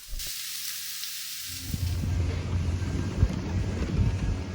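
Shrimp and scrambled eggs frying in a home kitchen, a steady, fairly loud sizzle that rises after a brief quieter start and continues with crackling pops.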